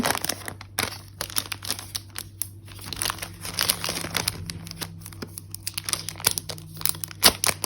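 Packaging of a Kindle Paperwhite is opened by hand: close crinkling and tearing of plastic and paper in irregular bursts, with no one speaking.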